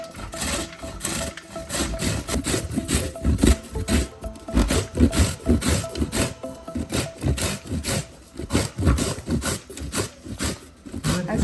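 Peeled raw green mango is grated for murabba in a steady rhythm of quick rasping strokes, close and continuous with brief pauses, and no voices.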